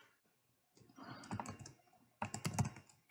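Computer keys are typed in two short bursts of close, soft clicking into a search field, with a brief pause between them.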